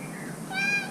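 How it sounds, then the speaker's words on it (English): A cat meows once, close and moderately loud, a short harmonic cry rising out of steady low background hum, with no talking. "Ignore the cat."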